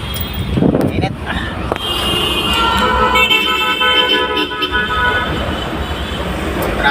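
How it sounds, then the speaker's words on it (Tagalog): Road traffic near Balintawak and EDSA rumbles steadily while car horns toot several times over it, with speech heard alongside the busy street noise. "Traffic pa uwi."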